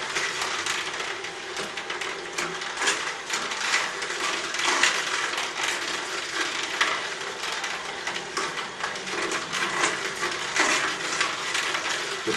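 An Omega VRT single-auger juicer runs while crushing produce, giving a steady grinding, crunching churn with irregular clicks and cracks throughout, close and fairly loud, with no speech over it.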